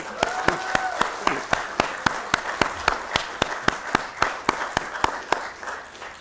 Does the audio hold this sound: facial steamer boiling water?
no